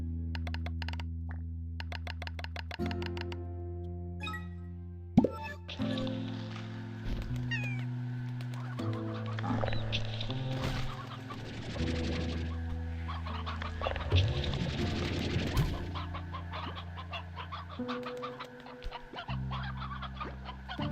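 Chickens cluck in the video game Slime Rancher 2, scattered clucks and cat-like meows layered over steady tonal game music across about twenty seconds, moderately loud.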